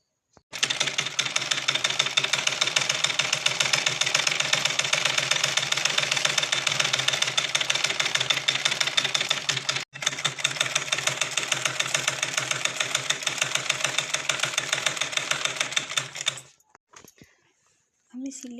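A sewing machine stitches blouse pieces, running in a steady rapid mechanical rattle for about sixteen seconds with one brief break near the middle, then stopping, followed by faint handling noises.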